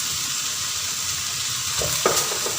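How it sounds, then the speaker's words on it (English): A pot of mutton dalcha with potatoes and dry spices simmers and sizzles steadily, a continuous close hiss with a few faint clinks of stirring near the end and no speech. "Cook it down softly."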